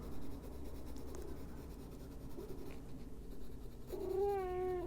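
A house cat lets out a short, fairly close meow near the end, over a steady low background hum and faint scratching of colored pencils on paper.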